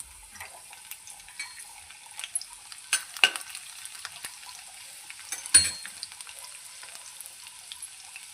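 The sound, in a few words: garlic cloves frying in a pan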